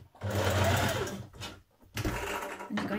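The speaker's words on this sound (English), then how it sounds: "you're going to stitch your dart in the top of both your sleeves" A sewing machine stitches a sleeve dart on a sweatshirt, giving a loud, close mechanical whir in two bursts separated by a short pause.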